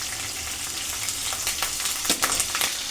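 Green chillies sizzle and crackle in hot oil for mango pulihora, a steady close frying hiss with a few sharper pops and spits near the end.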